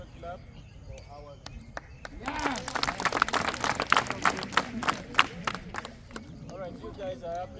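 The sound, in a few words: group clapping at an event closing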